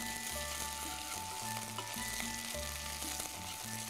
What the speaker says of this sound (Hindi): जब अदरक लहसुन भुन जाए तब हम इसमें मिलाएंगे चिकन।